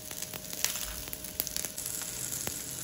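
Cumin seeds sizzling in hot oil in a pan for tomato peanut chutney, a steady close crackle with scattered pops and no voices.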